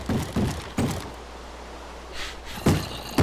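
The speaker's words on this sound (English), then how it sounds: "they're taking down the neighboring door" Zombies pounding on a wooden door in the Minecraft video game, a series of dull thuds and knocks at irregular intervals over a steady background hum, fairly close.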